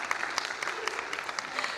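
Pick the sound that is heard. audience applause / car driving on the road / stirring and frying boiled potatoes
audience applause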